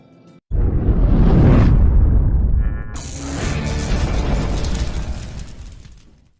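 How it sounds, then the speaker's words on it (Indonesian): A bomb goes off at a nightclub in a film set in Jakarta in 2015. After a brief near silence, a loud low explosion hits and roars, then settles into a second swell of crashing, rumbling debris noise as it fades. "Film diawali ketika Jakarta 2015 terjadi ledakan bom di sebuah klub malam"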